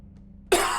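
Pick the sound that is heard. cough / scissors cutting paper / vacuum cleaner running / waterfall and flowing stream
cough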